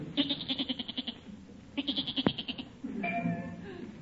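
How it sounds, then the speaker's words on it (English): A goat bleats repeatedly from inside a neighbour's garage in a vintage radio comedy, its wavering cries coming in two bursts, followed by a brief thump and some murmuring. "Holy smokes, a goat."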